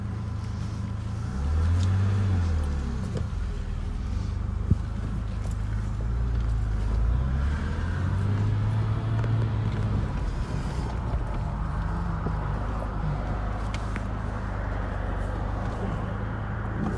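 A 1988 BMW M6 Coupe is driven on the road, heard from inside as a steady low engine drone with rising and falling revs under constant road and wind rumble.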